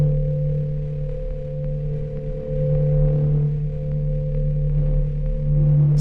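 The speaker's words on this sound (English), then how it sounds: "this is going to be bringing some distortion in and out on that reverb" A grainy synthesizer soundbed patch made in Omnisphere, with distortion brought in and out on the reverb, plays as a loud, steady sustained drone of low hums and layered tones with no talking.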